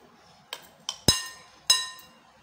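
Salad ingredients tossed in a bowl with a spoon, giving four or five sharp clinks of utensil on the bowl's rim, close and clear, with quiet pauses between.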